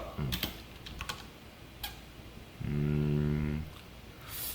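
Code is typed on a computer keyboard in a quiet room as a series of close, crisp key clicks in short bursts, followed by a low, sustained hum toward the end.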